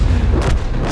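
A tank cannon in World of Tanks fires a single loud, heavy boom with a rumbling low-end tail, close and dominant with no talk over it.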